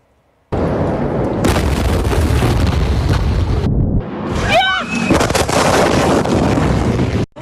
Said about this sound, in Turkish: Ancak ard arda gelen iki büyük patlamayla cehennemin ortasında kaldılar.